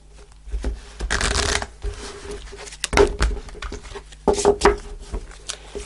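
Angel answer oracle cards being shuffled for a tarot reading, several bursts of riffling and sliding card sounds with short gaps between them, close and fairly loud with no clear talking.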